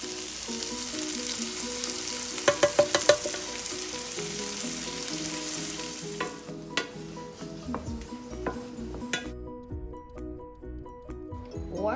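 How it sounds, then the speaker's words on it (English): Oil sizzling steadily in a pan while white portions of green onion are stirred, with a few metallic clinks of a utensil against the pan partway through. "Add white portions of green onion and stir constantly until aromatic, 30 to 60 seconds."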